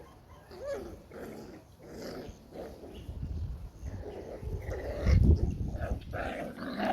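Maremma puppies growling and grumbling as they play fight, low rough growls with small whimpers building in intensity, fairly close and unaccompanied by talk.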